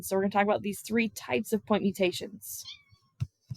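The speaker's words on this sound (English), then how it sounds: "That's my cat." A pet cat meows briefly and softly near the end, right after a woman finishes a spoken lecture sentence indoors; most of the moment is her talking.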